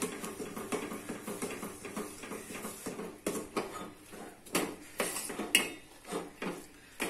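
Maida flour being stirred by hand into just-boiled milk in a pan, a close, busy run of soft scraping and clinking strokes with irregular rhythm and occasional sharper knocks of the utensil against the pan.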